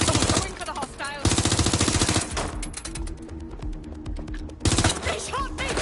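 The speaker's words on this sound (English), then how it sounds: "Taking fire!" Video game gunfire in Watch Dogs: Legion, with loud rapid automatic bursts broken by quieter stretches of scattered shots, close and intense, alongside combat voice lines.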